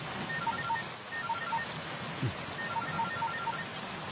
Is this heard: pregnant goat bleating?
no